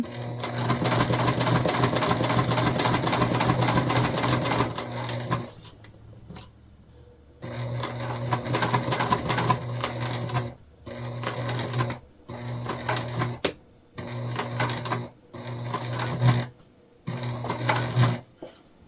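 Sewing machine stitching a self-drafted tote bag, a long whirring run followed by a series of shorter bursts separated by pauses, close and clear with no talking.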